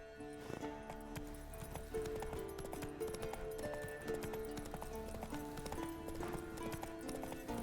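Roach the horse galloping in The Witcher 3 video game, quiet rhythmic clip-clop hoofbeats with a brief whinny amid game background sounds.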